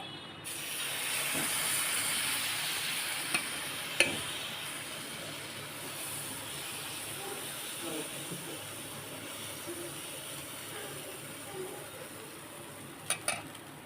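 Adai lentil batter hits a hot tawa griddle and sizzles with a steady, moderate hiss, broken by a few faint clicks of a utensil against the pan.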